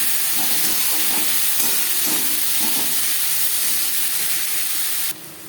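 Chopped onion and garlic fry in oil with whole cumin for a pangas fish and potato curry: a loud, continuous sizzling hiss that cuts off abruptly just before the end, with no talking.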